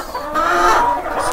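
Chickens in a large henhouse on a rural smallholding in Rolante cluck loudly and close, a short burst of busy fowl calls with no voices.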